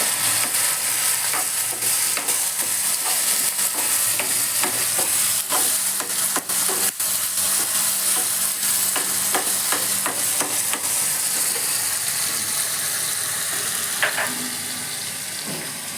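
Tomato and a medium-sized onion sautéing in a pan for a ridge gourd peel chutney, with a steady sizzle and repeated scraping stirs throughout, close and fairly loud, no talk.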